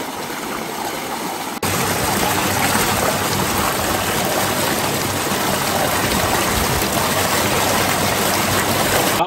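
Water driven by a submersible pump rushes steadily through a flow form for soil activator preparation, a loud continuous splashing flow, close by, with no talk.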